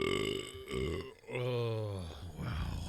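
A long, loud human burp after drinking Scotch Ale, a deep croaking belch that stretches and rises in pitch before trailing off, recorded close.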